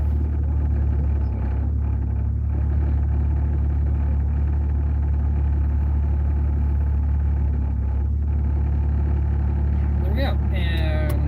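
A parked car's engine idles with a steady low rumble, close and continuous, at a car meet. Near the end it is shut off amid faint talking.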